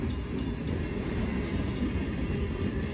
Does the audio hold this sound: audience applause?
no